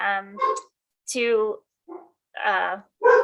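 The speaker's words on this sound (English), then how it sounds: "sorry, the dogs" Dogs bark in short, loud, clipped bursts separated by brief gaps, heard close by during a municipal land use committee meeting.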